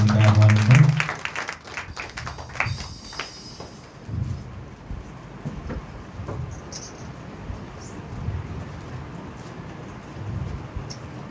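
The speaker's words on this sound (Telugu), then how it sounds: "అందరూ చప్పట్లు కొట్టి అమ్మని వాక్యానికి ఆహ్వానిద్దాం" A congregation at a Sunday worship service claps, with a burst of scattered claps that thins out and fades into quieter, sporadic taps in the room.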